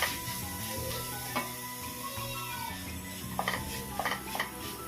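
Chopped parotta pieces being stirred into masala in a pan, with metal spatula scrapes and clinks over a soft sizzle, some tonal hum underneath, and a cluster of sharp clanks near the end.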